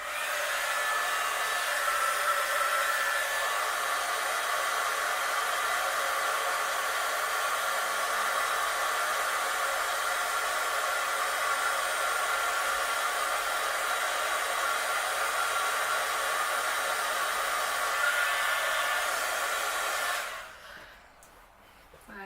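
A steady, loud whooshing blast of a heat tool melting embossing powder runs continuously for about twenty seconds, then cuts off abruptly into near silence.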